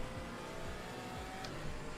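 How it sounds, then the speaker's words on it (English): Race car engine exhaust in a sim racing game drones steadily through the whole stretch, with repeated gear-change sweeps and one brief sharp accent, fairly loud with no talking. "Man, I can hear his exhaust."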